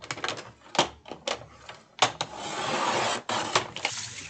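Scissors snip and rasp through the chipboard of a Dollar Tree box, a run of short crisp cuts followed by a longer scraping trim, close and loud with no talking.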